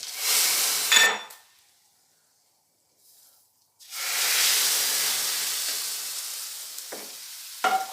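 A tempering of curry leaves and hing hitting dal: a loud sizzling burst, a short clatter, near silence, then a long sputtering hiss that slowly settles, closing with a couple of sharp pan knocks.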